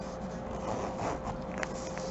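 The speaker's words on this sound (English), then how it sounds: "it zips open" A zipper slides open on a handmade cosmetic bag layered with lace and handkerchief fabric, a soft, close, continuous scratchy rasp lasting about two seconds.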